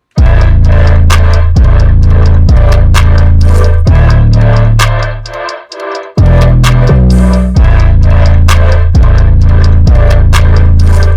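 A punchy hip hop drum beat with heavy booming bass kicks and crisp claps and hats, looping steadily, with a brief dropout in the middle.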